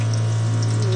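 Water running from a gas water heater in a motorhome: a steady, close rush of flowing water over a constant low pump-like hum, continuous throughout.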